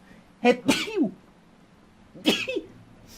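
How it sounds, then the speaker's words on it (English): Two sharp, close sneezes burst out about two seconds apart, the first with a breathy lead-in and a voiced trailing gasp, during a video game. "Ooh, I can feel a sneeze building up."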